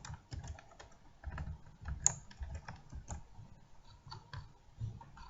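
Typing on a computer keyboard while writing a section into a text file, a quick irregular run of soft key clicks close by, with no talking.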